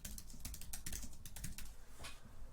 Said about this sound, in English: I'm going to start by typing in my search query